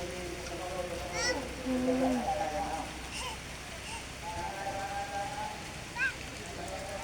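Rain falls steadily in a rural village in southern Laos, a constant soft wash of patter while people talk over it.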